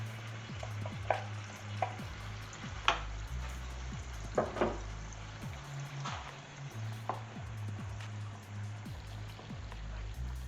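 Chicken cubes with a thick onion and tomato paste being mixed in a pan, a low sizzle under repeated spoon scrapes and taps against the pan, quiet and close, with a steady low hum beneath.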